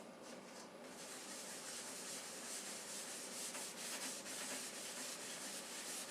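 Wax being buffed by hand onto a chalk-painted wooden table, a steady close rubbing hiss that continues without pause and without voices.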